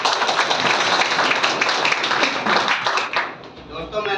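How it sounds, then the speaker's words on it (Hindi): Audience clapping for leaders at a network business gathering, dense rapid applause from a crowd that is fairly close and loud for several seconds before thinning out at the end. "इन सभी लोगों के लिए जोरदार तालियां।"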